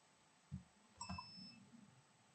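An electronic device in a workshop, fitted with a newly installed Perun MOSFET, gives a single short, clear high beep at switch-on, preceded and followed by a few soft thuds of handling.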